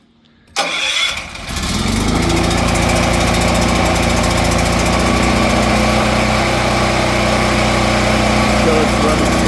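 Gas generator set up outdoors is started with a key and choke, a brief cranking sputter that catches into a loud steady engine drone, running close by without a break.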